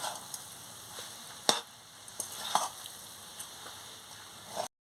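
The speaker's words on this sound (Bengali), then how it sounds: "আমি এবারে এলাচের গুঁড়োটা দিয়ে দিচ্ছি, দিয়ে ভালো করে নাড়িয়ে নিচ্ছি।" Coconut naru mixture with cardamom powder being stirred in a pan, soft sizzling under intermittent scraping and clanking of the spoon against the pan, with no talking.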